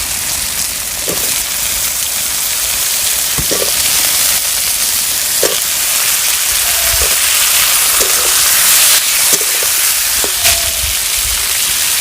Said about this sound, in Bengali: এখন আমি দিয়ে দেবো এর ভিতরে বেগুনগুলো, কেটে রাখা বেগুনগুলো দিয়ে দিচ্ছি।